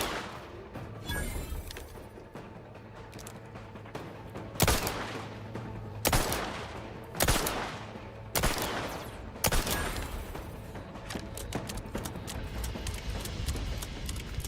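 Gunfire in the shooter Outer Worlds 2, a run of sharp, loud shots spaced a second or two apart over steady combat noise, with no voices.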